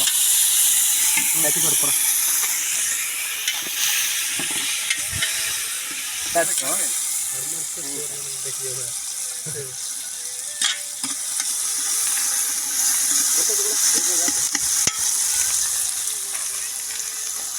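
Ginger garlic paste frying in a pan while making tomato chicken gives a steady sizzling hiss with stirring clatter, and people talk over it throughout.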